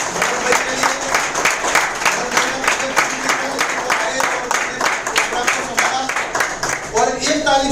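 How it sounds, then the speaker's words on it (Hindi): An audience at a hotel business meeting claps loudly in a fast, even rhythm, nearly in unison, throughout; a voice begins speaking at the very end. "आज मैं तालियां चाहूंगा किरीट भाई के लिए"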